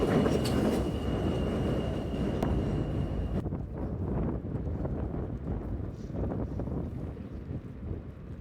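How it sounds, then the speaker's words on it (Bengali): An F train rumbling over an elevated track, heard as a continuous low rolling roar with wind buffeting the microphone, moderately loud and steady throughout, with a bright high tone in the first few seconds before the sound dulls. "এটা হচ্ছে কি এফ ট্রেন ট্র্যাক উপর দিয়ে গেছে"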